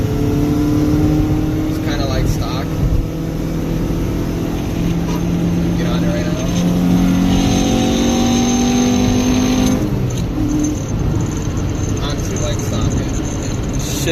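Car engine revving hard under acceleration after a K-Tune style short shifter was fitted, a loud steady drone with pitch climbing, then a shift change around ten seconds, with some speech in the cabin.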